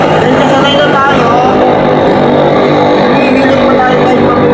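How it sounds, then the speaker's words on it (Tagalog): Heavy road traffic roars past nonstop, loud and close, a dense wash of car and engine noise with no break. "sobrang ingay ng mga sasakyan guys"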